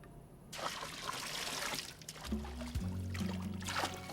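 Water sprays and splashes steadily with a broad hiss, accompanied by a low mechanical hum that shifts partway through.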